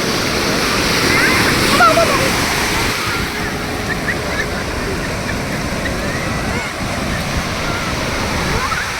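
Sea waves wash steadily onto the sand at RK Beach in Vizag, a constant broadband roar of surf close by with no clear breaks, while a voice calls out faintly in the middle.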